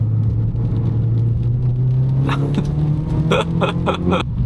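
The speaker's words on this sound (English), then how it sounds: "One downshift, a little heel and toe into this corner, chuck it in." A car engine drones steadily, its pitch climbing, then several quick rev blips punch through near the end as the driver heel-and-toe downshifts into a corner.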